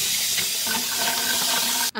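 Dirty water from an Osotek Horizon H200 self-cleaning robot vacuum mop tank pours out in a steady, close rushing splash that ends abruptly.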